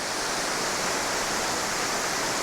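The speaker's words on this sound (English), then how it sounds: "There's Middle Creek Falls, the Triple Falls." Triple Falls on Middle Creek roars in a steady, dense rush of falling water, a loud continuous broadband wash with no pauses and no voices.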